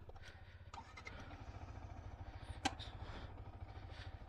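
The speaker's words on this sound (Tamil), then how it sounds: "அந்த மாதிரி வண்டி வார்ம் அப் பண்ணிக்கலாம்." A motorcycle engine idles while warming up before a group ride in Andhra Pradesh, a steady low, pulsing putter close by with a few faint clicks and a brief sharp sound partway through, no speech.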